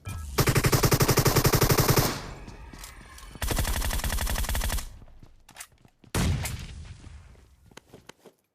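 Rapid automatic gunfire in PUBG Mobile, loud and close, rattling in three long bursts separated by short gaps and ending with a few scattered single shots.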